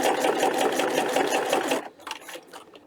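A sewing machine stitches straight across a fabric book protector strap in a fast, steady, close run that halts near the two-second mark, leaving quieter handling sounds.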